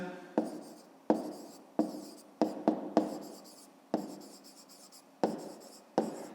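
Handwriting during a fifth-grade maths lesson: about nine sharp scratchy strokes, each starting abruptly and trailing off, close and fairly quiet, with no voices.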